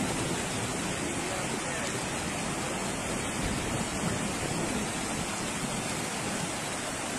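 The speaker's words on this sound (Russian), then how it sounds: "Смотри, какая волна идет." Floodwater sweeps through a Russian resort town in a continuous, loud, broadband roar, a wave of rushing water that stays steady from start to finish.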